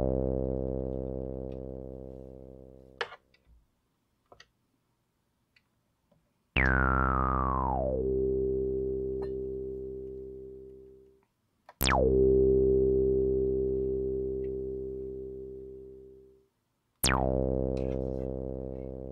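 A Behringer TD-3 synthesizer plays three long buzzy held notes, each opening with a bright envelope sweep that falls quickly into a steady tone and then fades, separated by brief quiet gaps, with no talking.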